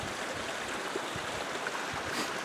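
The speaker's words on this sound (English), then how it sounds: "I got a river with rocks" A river flows over rocks behind the recordist, a steady soft rushing hiss with faint low thumps, heard alone.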